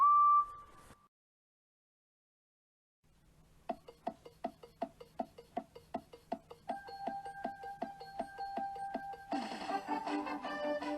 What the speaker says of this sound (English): Edward waited for the conductor's whistle to blow